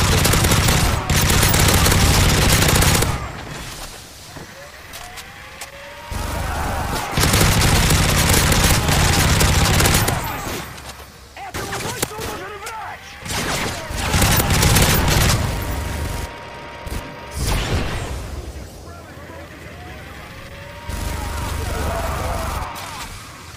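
In Call of Duty: Modern Warfare 3 survival mode, bursts of automatic gunfire and sentry gun fire come in loud clustered volleys separated by quieter gaps, with booms and voices mixed in.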